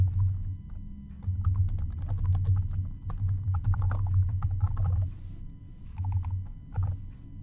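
Steady computer keyboard typing, fast and continuous, with short pauses between bursts of keystrokes, close and clear, with no talk.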